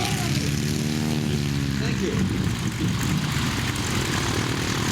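A Stearman biplane's radial engine runs steadily at an airshow, a loud, continuous droning propeller roar that fills the whole stretch, with a brief spoken remark over it.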